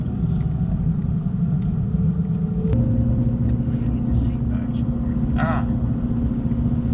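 An 800+ horsepower Ford Mustang rumbles in low gear while driving, a deep steady engine drone with a pitch shift midway as it pulls away, a brief voice over it.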